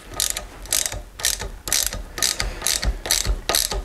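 A ratchet wrench tightens a new nut on a monotube internal floating piston ATV/snowmobile shock, giving about eight loud, close bursts of rapid clicking in a steady back-and-forth rhythm.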